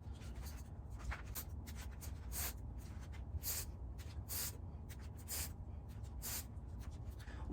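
Several quick, crisp snips as scissors cut small pieces of Velcro plant tape, close and fairly quiet, spaced irregularly over a soft background hush.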